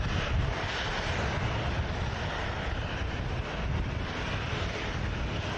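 Airbus A320neo touching down at Manchester Airport, a faint, steady broadband engine rumble with wind-like hiss, continuous and distant, without speech.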